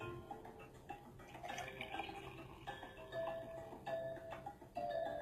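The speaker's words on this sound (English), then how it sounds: "it is super green, very green. And it is going to be full of wonderful vitamins. So I'm going to pour it up now." Quiet liquid pouring of a bright green vegetable drink into a glass, with faint trickling and light clinks of glass, soft and close.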